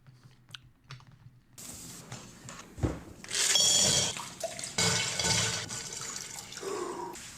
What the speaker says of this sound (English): That dunking his head into the bowl of water is his signature move.